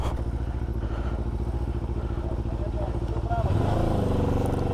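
An Xcape 650x motorcycle rides along a mountain road near Manali, its engine droning loud and close with a steady pulsing rumble that rises in pitch and loudness near the end.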